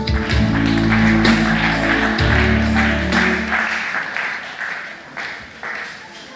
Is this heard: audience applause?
yes